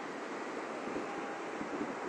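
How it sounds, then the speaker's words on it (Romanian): Steady wind blows over the rough Atlantic coast, with a broad, even rush and some surf, sounding moderately loud and close to the microphone. No one speaks. "este vântul de peste Sahara"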